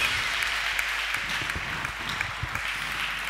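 A church congregation claps together in a steady, dense burst of applause that fills the room and holds at an even level from start to finish.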